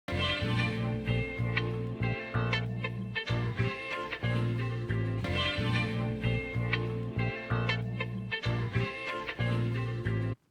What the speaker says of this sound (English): So my guitar and my bass will sound like this.